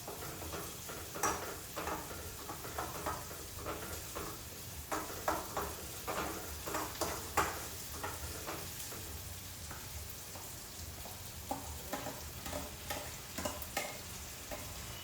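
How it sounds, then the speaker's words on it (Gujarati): Onions frying in a pan until browned for a green pigeon pea dish, with a steady sizzle under repeated stirring scrapes, moderately close and without speech. "કાંદા છે ને તેજ અમથા બ્રાઉન થાય ને ત્યાં ચડવા દેવાના."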